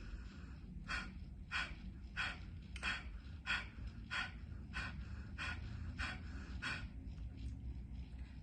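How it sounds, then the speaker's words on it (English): A person does yoga breathing with sharp, punchy exhales through the nose. About ten quick, forceful nasal puffs come at an even rhythm, close by, over a low background hum. "It's these sharp, punchy exhales out through the nose."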